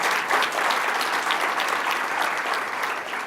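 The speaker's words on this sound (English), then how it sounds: "Let's give her a round of applause." A crowd claps steadily and loudly for a few seconds, a dense even patter of many hands with no voices over it.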